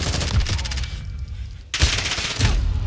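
MP5 submachine gun fire in Call of Duty: Modern Warfare, rapid automatic bursts close up, broken by a short pause before firing resumes in loud repeated volleys.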